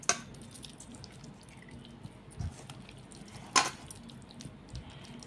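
Fish pieces are washed in water, with quiet drips and soft splashes, a few sharper sloshes standing out against a low, faint background of running liquid.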